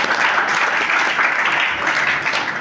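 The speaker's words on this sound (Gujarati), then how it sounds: "એમના માટે એકવાર તાળી અને પછી આભાર" An audience applauds at a school event, a dense continuous clapping that stays loud and even from start to finish.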